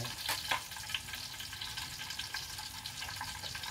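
Groundnut oil heats in a pan with a steady, soft sizzle and crackle throughout. A few brighter pops come early, and no voices are heard.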